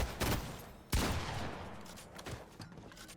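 Burst weapon fire in Fortnite: two close, sharp bursts of gunfire a little under a second apart, followed by quieter, more distant pops trailing off.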